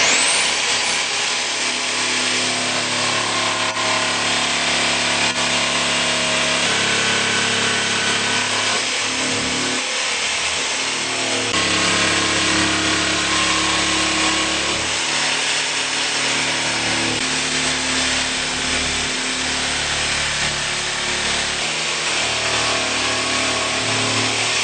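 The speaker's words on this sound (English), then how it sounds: "we put blue tape around to protect the Onyx panel from the jigsaw" Jigsaw cutting an opening through an onyx shower wall panel protected with blue tape, a loud, steady buzzing saw run that continues for the whole stretch with small shifts in pitch and no talking.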